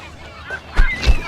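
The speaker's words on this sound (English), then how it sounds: "Birds." Birds honking goose-like, two short loud honks in quick succession near the end of a brief moment, close by.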